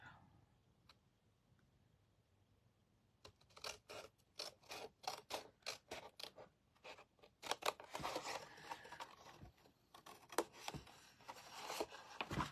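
Scissors cutting paper during a paper-crafting session: sharp snips and rustling that begin after a quiet start, becoming a dense run of clustered cuts and paper handling toward the end.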